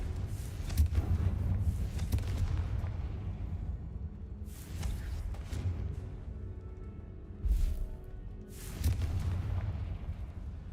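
Confringo fire spell explosions in the Hogwarts Legacy video game, several deep booming blasts spaced a few seconds apart over a low rumbling background.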